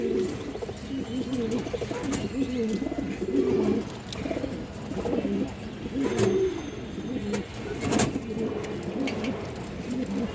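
Pigeons coo in repeated soft, throaty phrases, several birds close by, with occasional chirps and faint background noise; no one talks during it.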